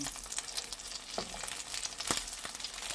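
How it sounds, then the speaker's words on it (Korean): Oyster pancakes (gul-jeon) frying in a pan: a steady, close hiss and crackle of oil, with a few sharper pops and scrapes and no talking. "굴전이 맛있게 익고 있습니다"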